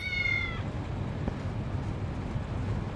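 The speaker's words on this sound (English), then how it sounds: "The cat." A cat in the video game Lost Judgment gives a single short, clear meow at the start, over a steady low rumble of game ambience that fills the rest of the stretch.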